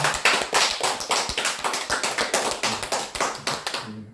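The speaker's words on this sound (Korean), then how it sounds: "감사의 박수 한번 보내주시죠." An audience at a lecture on elderly health and dementia prevention claps in thanks. The claps are close and land in a regular rhythmic pattern, fairly loud and with no talking, before they cut off abruptly.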